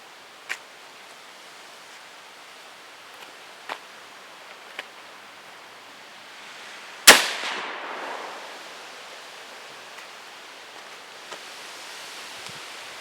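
A single sharp, loud rifle shot from a Mosin bolt-action rifle firing a 7.62x51 NATO cartridge cracks out outdoors, followed by a brief decaying echo, with faint rustling and small clicks before and after.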